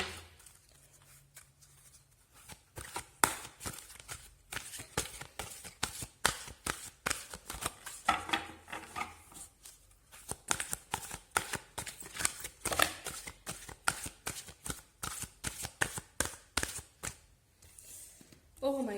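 Tarot cards are shuffled continuously in a rapid, crisp riffling rhythm, close and fairly quiet, with a brief pause midway; no speech is heard.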